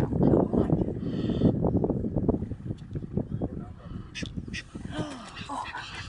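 A goose honks and squawks in harsh, repeated calls, tangled with crow-like caws and rustling as it squabbles near a nest, with people talking excitedly over much of it.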